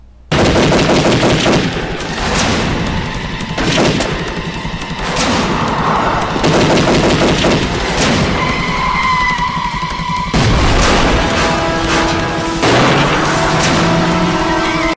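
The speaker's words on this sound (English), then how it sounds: "Guns are fired, and he loses them." Gunfire in an action scene from the Chuck Norris film The Cutter: loud bursts of machine-gun fire and single shots, with blasts and some background music, continuous for the whole stretch.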